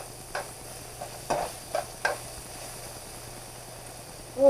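Beef for an English beef stew browning in a pan, with a low steady sizzle and a few stirring scrapes and clicks, close up, with no talking.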